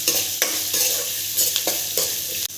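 Shallots and spices stir-frying in hot oil for a mutton kuzhambu with vegetables: a steady close sizzle broken by several rhythmic scraping stirs of a spoon through the pan, with no talking.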